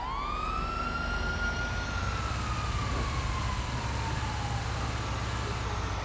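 A wailing fire truck siren in Grand Theft Auto V sweeps slowly up and down over a loud, constant engine-like rumble, close and continuous throughout.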